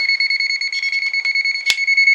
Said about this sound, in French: je vois que ça bip encore